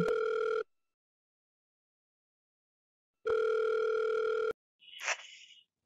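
A telephone ringback tone for an outgoing call: one ring burst, a long silent gap, then a second burst, followed by a brief faint voice-like sound.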